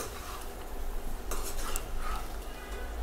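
Chicken frying with masala powder in oil over medium heat, stirred in a pan, with steady close sizzling and scraping of a utensil against the metal, including a few louder clinks midway.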